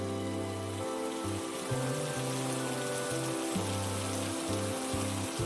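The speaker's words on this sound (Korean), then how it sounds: "오메 이것이 지금 비가 오는 것이라냐?" Steady rain falls over a forest, a continuous hiss with no voices and a low tonal background pattern running underneath.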